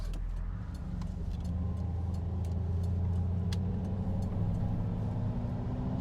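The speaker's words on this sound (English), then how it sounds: "We'll do a brief acceleration run here as we take this turn." A Chrysler Town & Country wagon that sat for 30 years accelerates through a turn, a steady mid-pitched engine drone rising gradually in pitch with faint ticks and rattles, heard from inside the car.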